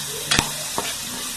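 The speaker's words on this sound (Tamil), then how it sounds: "தக்காளி போட்டு நல்லா வதக்கிக்கோங்க." Onions and tomatoes sauté for a fish curry, a steady hiss broken by two quick scrapes of a spoon against the pan.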